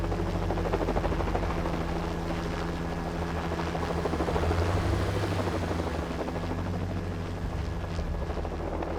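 Helicopter on a rooftop in the LEGO Jurassic Park video game, its dense rotor thrum and engine roar sustained and loud throughout, with no talk over it.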